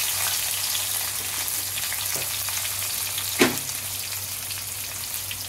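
Chopped onions sizzle steadily in a hot pan while a Bengali dish of small prawns and Malabar spinach is cooked, with a brief louder splash and clatter midway as they are stirred.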